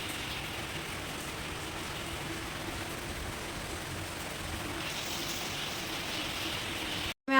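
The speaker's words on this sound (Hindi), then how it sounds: "बाहर अभी तक बारिश हो रही है" Steady rain falls outside, making a soft, even hiss that continues without a break for about seven seconds before a brief cutoff at the end.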